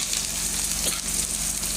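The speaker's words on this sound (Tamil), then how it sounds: "நல்லா பெரிய வெங்காயம் 2 வெங்காயம் நல்லா வெங்காயத்தை அள்ளி போட்டு நல்லா வதக்கிடுங்க." Large onions sizzle and fry in hot oil in a pan while making a dried anchovy fry, a steady close crackling hiss that stays even through the short stretch.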